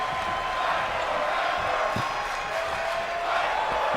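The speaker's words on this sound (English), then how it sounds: "Crowd getting behind them" Crowd at a wrestling event cheering in a steady, broad roar, with a few thuds over the noise, continuous throughout.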